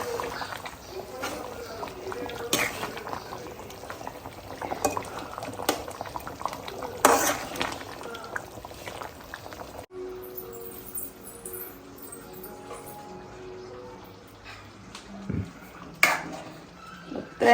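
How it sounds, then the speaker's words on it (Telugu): Chicken liver soup bubbling in a pot on the stove, a steady low simmering hiss with occasional clinks of utensils against the pan, while a voice talks over it. "ఇట్లా మంచి దగ్గర ఉడికి, ఇప్పుడు ఉడుకుతుంది కదా"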